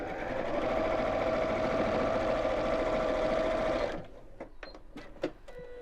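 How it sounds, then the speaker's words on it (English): Sewing machine running steadily for about four seconds as it stitches straight across the bottom seam of a fabric bottle gift bag, then stopping, followed by a few light clicks and handling noises. "we'll just sew straight across"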